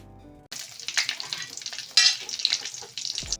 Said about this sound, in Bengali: তো এরপরে ওই একই তেলের মধ্যে দিয়ে দিতে হবে পাঁচ ফোড়ন এবং তার সঙ্গে দিতে হবে দুটো তেজপাতা